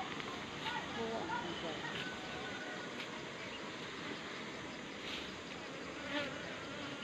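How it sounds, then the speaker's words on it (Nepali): Honey bees at a beehive, a dense continuous buzzing swarm, steady and close, with a person's voice faintly underneath. "बदमास रहेछ मौरी यो।"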